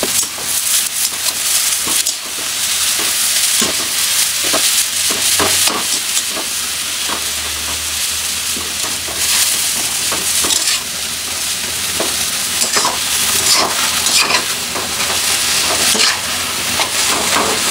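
Koi fish frying in a pan with continuous loud sizzling and oil crackle throughout, punctuated by scattered stirring clinks and scrapes, with no voices.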